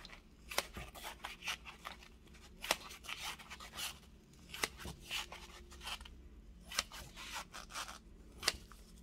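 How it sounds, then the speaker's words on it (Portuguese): Scissors snip fabric around a headband being covered by hand, a series of quiet close cuts in an uneven rhythm with light rustling of cloth between them. "deixo de 1 a 2 milímetros corto, fecho a tesoura de uma vez"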